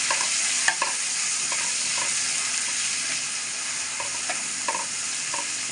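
Ginger-garlic-cumin paste and green chili paste frying in a pan for a biryani, a steady loud sizzle with intermittent scraping stirs and small clinks from the spoon.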